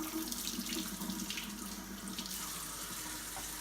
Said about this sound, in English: with some water running very slowly